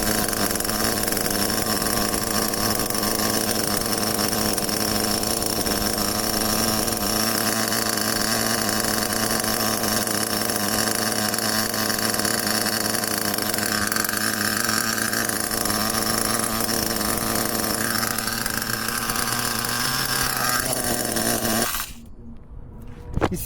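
A Traxxas T-Maxx 2.5 nitro RC truck engine screams steadily at high revs, loud and close, with a buzzing tone that holds for about twenty seconds before suddenly cutting out.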